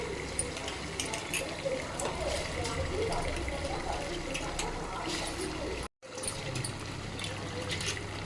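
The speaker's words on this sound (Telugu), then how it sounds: "గ్లాస్కి గ్లాసున్నర వాటర్ వేసుకోవాలి" Water trickling and splashing steadily into a pot of soaked basmati rice for prawn biryani, a continuous pouring sound close by, briefly cut off partway through.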